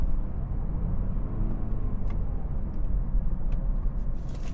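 A 2018 BMW 328d xDrive diesel wagon cruising at 45 mph in eighth gear, heard as a steady low road and engine rumble from inside the cabin, continuous and even throughout.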